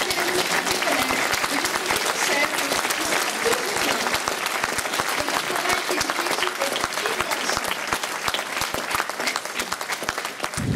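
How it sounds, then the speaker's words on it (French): A concert audience at Les Musicales du Rhin in Biesheim applauds local amateur musicians, long, vigorous clapping from a large crowd with distinct individual claps, steady and close throughout. "j'aimerais que vous applaudissiez particulièrement les musiciens amateurs de notre territoire"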